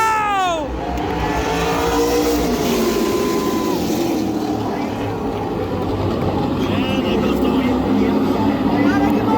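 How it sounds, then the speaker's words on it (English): A race car at a Stafford SRX event pulls away with a loud, roaring engine note that sweeps up and then fades, over steady crowd and track noise with people talking nearby. "as the race vehicle moves away"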